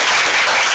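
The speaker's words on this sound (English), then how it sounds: "I'll bank the applause now because there won't be any later" Dense applause from an audience at a science and policy lecture on UK plutonium, a steady wash of many hands clapping throughout a brief moment, fairly loud and close.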